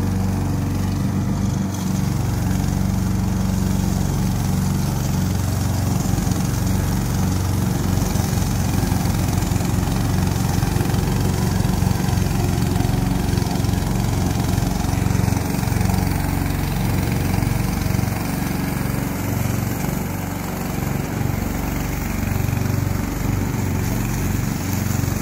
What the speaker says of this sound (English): We are a remote control mower factory, and this is one of our slope mowers.